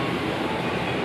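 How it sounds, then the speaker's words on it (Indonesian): The Mutiara Selatan passenger train pulling into Solo Balapan station, a loud, close, steady rumble of wheels and carriages. "saat ini kereta api Mutiara Selatan tiba dan berhenti di stasiun Solo Balapan"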